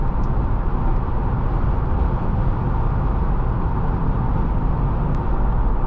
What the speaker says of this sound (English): I love that V8, that punch.